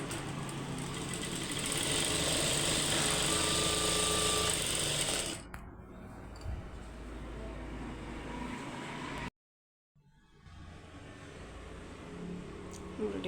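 An industrial jack sewing machine, set to stitch length two, runs in a loud continuous whirring drone for about five seconds, then stops, leaving quieter handling noise and a brief silence.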